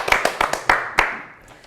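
Two podcast hosts briefly applaud themselves in a small room, about six close, sharp, uneven claps over a second, followed by a fading tail of room reverberation.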